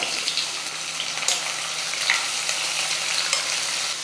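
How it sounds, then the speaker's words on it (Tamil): Thinly sliced onions sizzle in hot oil with garlic and curry leaves, a steady close frying hiss with occasional crackles and stirring scrapes, no voices. "வெங்காயம் வந்து நல்லா வதங்கணும்"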